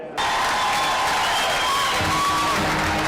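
Crowd at a political rally for former President Trump during the 2024 presidential race applauding and cheering loudly, a continuous dense clapping roar with whoops that holds steady before cutting off abruptly at the end.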